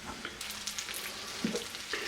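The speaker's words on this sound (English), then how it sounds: "and we'll start frying this up." Walleye fillets sizzling in a hot pan of oil and butter, a steady close crackle with occasional louder pops.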